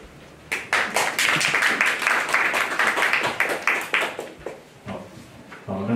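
An audience applauds after a talk, a burst of dense clapping that holds for several seconds and then thins out, with scattered claps trailing near the end.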